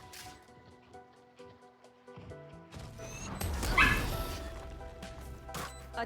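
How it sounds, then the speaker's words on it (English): A dog in an apartment gives a few yipping barks and whimpers, moderately near, heard over background game audio and music. "I'm surprised they let dogs in your apartment."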